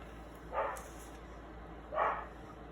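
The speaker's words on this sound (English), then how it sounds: "I don't know what she's barking about." A dog indoors barks twice, two moderately loud single woofs spaced over a second apart, with quiet room tone between and no talking.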